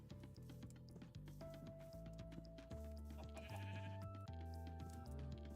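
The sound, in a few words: sheep bleating in a video game wool farm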